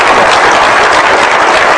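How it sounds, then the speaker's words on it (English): An audience gives Robert Kiyosaki a round of applause at a live seminar: dense, continuous clapping fills the room evenly and loudly from start to finish, with no voices over it. "a round of applause for Robert Kiyosaki"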